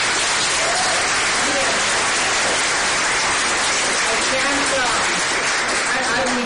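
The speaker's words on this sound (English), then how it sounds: "Let's have a clap for Palestine." Sustained applause from an audience at a gathering for Palestine, a dense, steady wash of clapping filling the whole stretch, with crowd voices mixed in.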